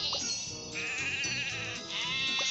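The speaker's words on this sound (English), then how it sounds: "Some sheep have wandered off from the farm." Cartoonish sheep bleats in a Thomas and Friends train set game, a few wavering bleats over bright looping game music, clear and close.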